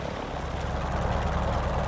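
Grumman F4F Wildcat radial propeller engine idling at low throttle in a flight simulator, a steady dense rumble with a constant low throb throughout, loud and close, with no talk.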